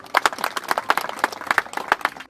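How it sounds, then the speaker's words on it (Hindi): A crowd at a government senior secondary school ceremony claps in honour of a donor, brisk uneven applause of many hands, close and steady throughout. "मैं चाहूंगा कि एक बार सभी उनके सम्मान में तालियां जरूर बजाएं।"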